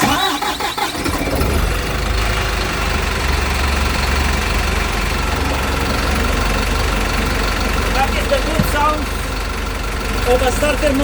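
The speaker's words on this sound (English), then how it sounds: "Okay, we're gonna start the engine." A Volvo B5 double-decker bus engine cranks on its newly replaced starter motor, catches, and settles into a steady, loud diesel idle with a low rumble, while a voice speaks briefly nearby.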